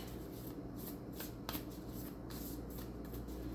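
A deck of Moonology oracle cards is shuffled by hand, producing a continuous soft riffling with a few sharper snaps and no talking over it.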